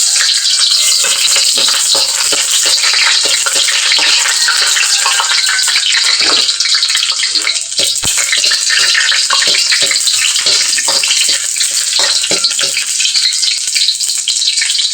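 Garlic frying in hot cooking oil for a Filipino sautéed clam dish, a loud, steady, close sizzle with crackling spits throughout and no talking.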